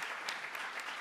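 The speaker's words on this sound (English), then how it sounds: "we'll give them a round of applause." An awards-ceremony audience claps in a continuous, even patter of many hands, moderately loud and unbroken by speech for the whole brief moment.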